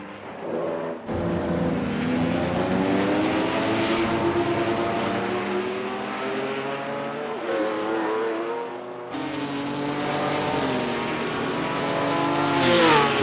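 Historic race car engines roar in the Assetto Corsa video game, a loud, sustained howl that climbs in pitch through the gears, with sharp drops at each shift and a final rising wail.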